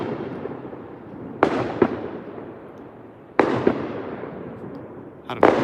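July 4th fireworks go off in three sharp bursts a couple of seconds apart, each bang followed by crackling that fades, all somewhat distant and outdoors.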